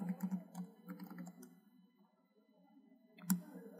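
Java code being typed on a computer keyboard, with soft scattered key clicks near the mic, then a pause and one sharper click at the end.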